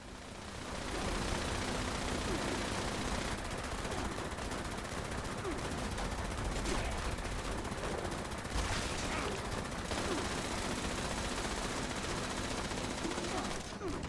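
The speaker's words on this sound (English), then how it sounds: "Great thing about the Gatling laser is that it has a lot of shots." Rapid, continuous gunfire from a Gatling laser in Fallout 76, a dense, steady stream of shots that runs loud for most of the stretch with brief dips in intensity.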